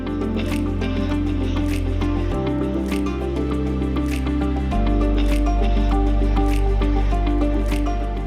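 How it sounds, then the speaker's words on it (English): Wet earth, rice husks and water mixed by hand for clay bricks on a farm build, giving steady close squelching and dripping squishes over continuous background music. "mix together the material with the kids"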